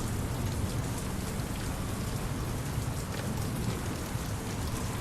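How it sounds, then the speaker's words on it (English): Heavy rain pounds down in a loud, unbroken roar of drops hammering surfaces, dense and close throughout. "I did not realize that the rain is just pounding."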